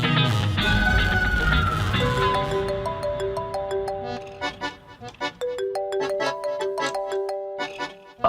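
A mobile phone ringtone plays a bright, synthetic melody of repeating tones indoors, loud and close, running for several seconds with no talk over it.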